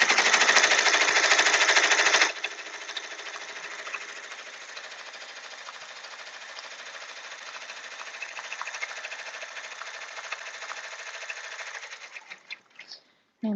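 Sewing machine stitching an embroidered appliqué unicorn onto a shirt, a steady rapid mechanical whir running continuously and loud at first, then slightly softer, before stopping near the end.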